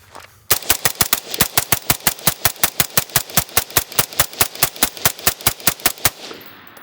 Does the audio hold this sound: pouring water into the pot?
no